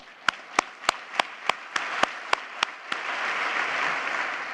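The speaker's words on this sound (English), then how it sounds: "and we'll clap there" Audience at a Newport News State of the City event, opening with about nine evenly spaced single claps that swell into sustained, moderately distant applause from the crowd.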